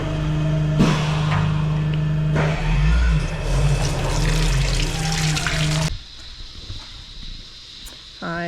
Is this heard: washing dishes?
yes